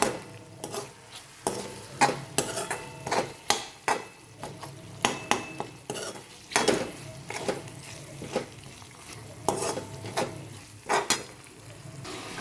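Tomato and onion being sautéed together in a pan, a soft sizzle punctuated by a long run of rhythmic spatula scrapes and knocks against the pan, close and steady, with no speech.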